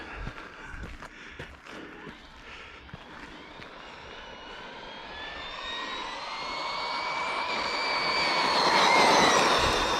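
A Team Corally Spark XB6 RC car makes high-speed passes on slippery, messy ground, its motor whine rising in pitch and growing louder as it races closer, with scattered ticking and scuffing beneath.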